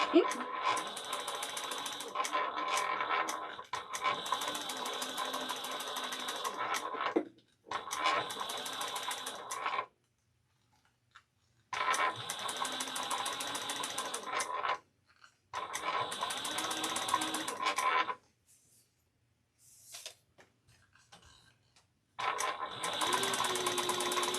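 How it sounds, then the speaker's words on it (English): A sewing machine stitches a travel bag in several steady, rapid bursts of mechanical whirring and clattering, close up, separated by short pauses, with some talking in between. "I'm gonna stitch down the other side."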